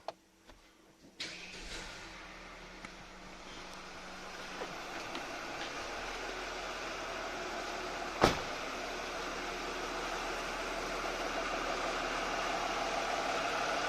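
A Mercedes W222 with the OM656 diesel engine starts up after a brief crank and settles into a steady idle for warm-up, a continuous broadband hum with a single sharp click partway through.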